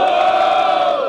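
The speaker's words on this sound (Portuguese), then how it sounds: "Barulho para a MC Choice!" A crowd at a 2016 street rap battle in São Gonçalo roars and cheers loudly for one of the MCs, a dense, sustained wall of shouting voices close by and unbroken for the whole moment.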